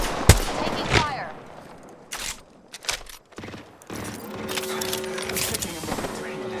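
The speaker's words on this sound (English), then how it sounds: "Enemy spotted. Agreed. Taking fire." Gunfire in the shooter Apex Legends, sharp loud bursts of shots and rapid automatic fire in clusters, mixed with game effects and a shield recharge hum, while a character voice calls out over the action.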